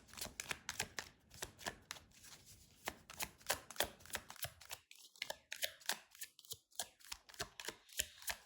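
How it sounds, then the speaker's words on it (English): Rapid riffle-shuffling of a tarot card deck, repeated crisp flutters in quick bursts, close and steady with no talking. "Shuffle, shuffle, shuffle."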